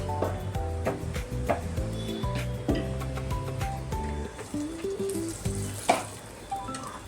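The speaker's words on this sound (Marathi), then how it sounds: "असं शालो फ्राय करून घ्यायचं" Paneer shallow frying in ghee, with a steady crackling sizzle running throughout, over which music-like tonal bands and occasional stirring or tapping sounds rise, including one sharper clatter near the end.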